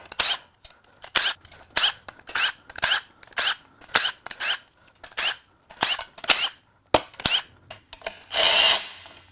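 Around a dozen short, loud bursts from a power tool rattle out the lower oil pan bolts of a salty 200K-mile Subaru Outback EZ30R 3.0 H6 engine in a rhythmic series, ending with one longer sustained spin.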